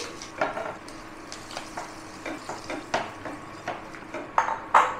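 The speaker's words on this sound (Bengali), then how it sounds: "মাছগুলি ভাজা হয়ে গেছে, তুলে নেবো। ভালো করে ভেজে নিয়েছি।" Small puti fish frying in mustard oil in a pan for a spicy Bengali fish curry, with quiet sizzling, soft stirring scrapes and a few clinks of a utensil against the pan.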